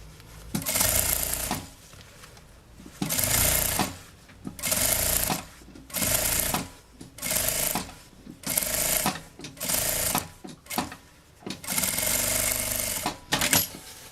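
A sewing machine stitches a travel case in about nine short runs of rapid, rattling needle strokes, each lasting roughly a second with brief pauses between, close and steady.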